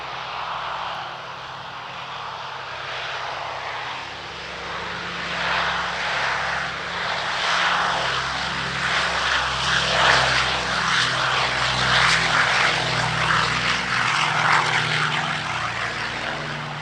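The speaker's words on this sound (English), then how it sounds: "Here is their Douglas DC-6B, cunningly disguised as an energy drink." Flying Bulls Douglas DC-6B piston propeller airliner passing at an airshow, its loud, steady multi-engine drone with harmonic throb swelling and holding strong, alone without talk.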